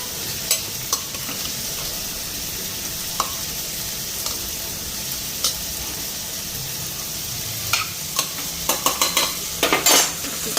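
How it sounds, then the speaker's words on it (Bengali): Spices fry in a pan in a home kitchen, a low steady sizzle with occasional scrapes and clinks of a spoon stirring, growing busier toward the end. "মশলাও ফ্রাই হয়ে গেছে"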